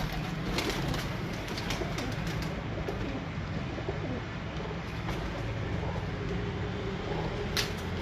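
Low, steady cooing of pigeons over a dense background hum, the soft calls blending together throughout with no talking.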